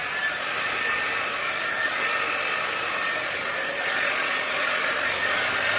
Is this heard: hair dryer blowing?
yes